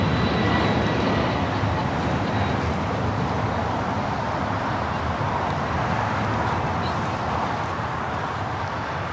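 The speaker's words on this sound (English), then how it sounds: "Delta 757 heading to Salt Lake City" A Delta Boeing 757 departing LAX on a flight to Salt Lake City, its engines a steady, broad roar that holds loud and close throughout, with a faint background wash of airport traffic.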